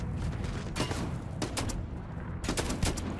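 Rifle fire in the video game Starfield comes as several sharp gunshot bursts, one just before the midpoint and a cluster near the end, over a continuous rumbling game background.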